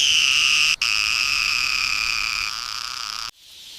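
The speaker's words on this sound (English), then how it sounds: "Cicadas scream in the dry brush." Cicadas buzzing in dry Tanzanian brush under a harsh sun: a loud, steady high-pitched drone that runs almost unbroken, with a brief gap early on, before cutting out abruptly near the end.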